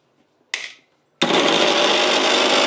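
A kitchen mixer grinder crushing ginger, with a short whirring pulse followed by a pause and then a loud, steady, close grinding roar that runs to the end.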